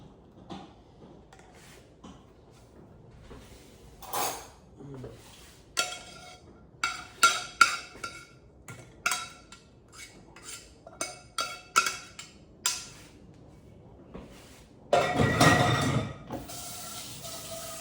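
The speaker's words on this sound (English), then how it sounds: "I'm just gonna strain all of the tea and all of the spices out" Spiced chai is poured through a strainer out of a pot in a home kitchen, giving a series of sharp metal clinks and scrapes of the pot and utensils, then a short splashing pour near the end, with no talk.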